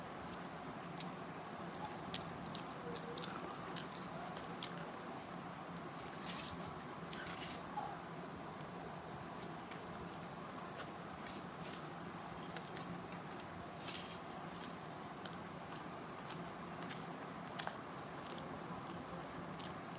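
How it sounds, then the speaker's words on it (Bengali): Someone eats a meal of rice, with soft, close chewing and small wet biting clicks repeating irregularly over a quiet indoor background. "ভাত খাচ্ছি বোন ভাত খাচ্ছি"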